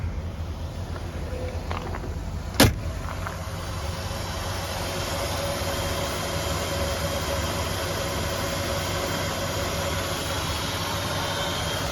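A 1968 Canadian Ford car engine idles quietly and steadily with a smooth low rumble and fan whir, broken once by a brief sharp click.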